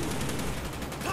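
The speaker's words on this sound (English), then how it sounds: "You saw I was shooting the enemy and he shot him as well!" Gunfire in the video game Call of Duty: Black Ops, a brief dense burst of rapid shots in a continuous loud wash.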